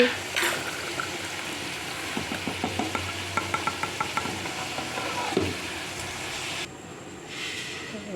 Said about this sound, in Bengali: এবার একটু হাতা দিয়ে আমি নেড়ে দিচ্ছি ভালো করে মিশিয়ে দিচ্ছি